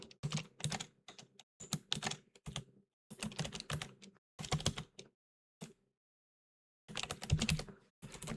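Someone types on a computer keyboard close by, fast clattering bursts of keystrokes broken by short and longer pauses.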